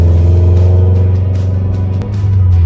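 A Scion FR-S sports car on a test drive gives a loud, steady low engine rumble with a brief dip near the end, close and alone, with no talking.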